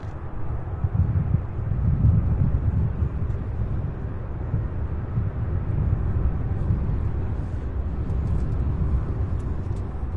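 A UPS Boeing 767 cargo jet climbs out from Louisville International Airport, a low, distant, steady roar mixed with wind noise that holds for about ten seconds, with no voices.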